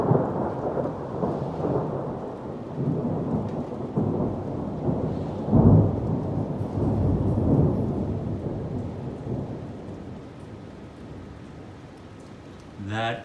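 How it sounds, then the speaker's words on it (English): Thunder rolls overhead during a light drizzle, a long low rumble swelling and fading under the steady hiss of fine rain, with a brief voice near the very end. "a little bit ago I heard some thunder up in those clouds, and there's a light drizzle going on"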